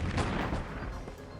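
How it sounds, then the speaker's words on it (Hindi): Cartoon army soldiers fire on a robot wolf in a dense, continuous rattle of gunfire with booming low thuds, loud and close, for just over a second. "आर्मी वाले रोबोट भेड़िए पर गोलियां बरसाने लगते हैं"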